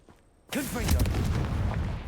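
The Confringo spell in Hogwarts Legacy goes off after a brief near-silence, a sudden loud booming blast that rumbles and crackles through the rest of the clip, with faint voiced sounds mixed in.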